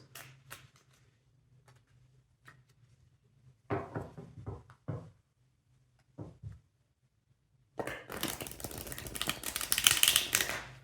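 A deck of tarot cards is shuffled up close. Short bursts of card flicks and taps come first, then a long, dense riffling run builds to the end.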